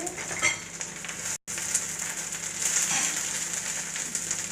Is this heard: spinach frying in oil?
yes